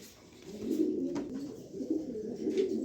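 A pair of top-quality pigeons, male and female, coo in a continuous low rolling murmur, close and clear, with the coos rising and falling over a few seconds and no talking.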